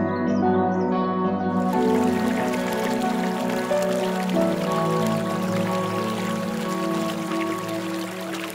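A river flowing over stones on a mountain trek in the Abetone area of Tuscany, a steady broadband rush of water running continuously and fairly close, with no voices over it.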